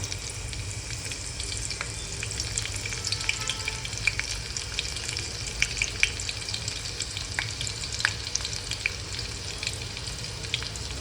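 Cumin, asafoetida, crushed garlic and curry leaves fry in hot oil with a steady crackling sizzle, scattered sharp pops and faint scraping of a spoon, close and even throughout with no talking.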